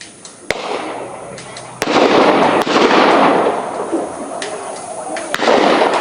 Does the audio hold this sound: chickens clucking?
no